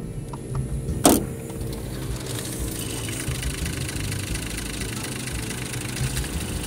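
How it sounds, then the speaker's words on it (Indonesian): A Mercedes GLE's inline-six twin-scroll turbo engine, push-started with a foot on the brake, settles into a steady, quiet idle heard close up, after a single sharp click near the start. "Cukup taruh tengah, karena dia sudah push start, foot on the brake, dan kita dengerin dulu mesinnya."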